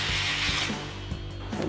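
A 12mm socket tightens the ABS bracket bolt onto the frame of a 2024-2025 Toyota Tacoma during a lift install: a burst of harsh, close whirring is followed by scattered clicks and metallic knocks.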